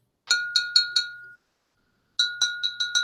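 Glass whiskey bottles, a clear Seagram's 7 Crown and a heavier brown 75 South, clinking together: four bright ringing chimes, a pause, then six more strikes, each sustaining briefly, close and alone.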